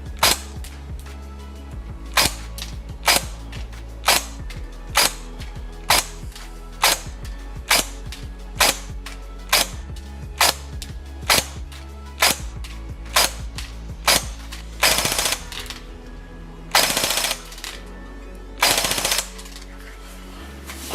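Silverback Desert Tech MDR-X .308 airsoft AEG on its stock spring, fired in a shooting test: a long run of sharp, evenly spaced shots, about one per second, loud and close, with a few heavier bursts near the end and no talking.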